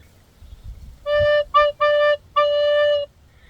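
A recorder plays a short phrase of a tune, four clear sustained notes with a brief quick note between, close and alone over faint background hiss.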